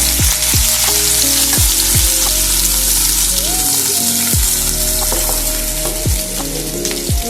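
Onions and green chillies sizzle loudly in hot oil with mustard seeds for a capsicum masala curry. A steady fry runs throughout, with a spoon clinking against the pan in regular strokes over a constant background hum.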